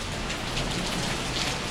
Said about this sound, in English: Absolutely hammering it down.